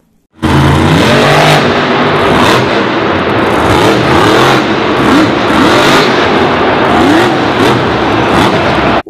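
A toy Jeep car's engine revs loudly and continuously for several seconds, a close, buzzing mechanical whine that rises and falls with no voices.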